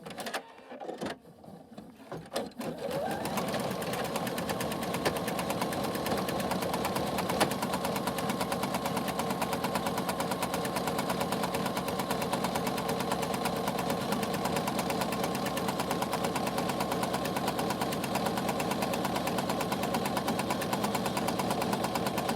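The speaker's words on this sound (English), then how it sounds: "For some reason, my machine does not like stitching over that tape." Embroidery sewing machine stitching an in-the-hoop mini backpack over tape, starting with a few halting bursts and then running into a loud, steady, rapid mechanical chatter that continues without pause.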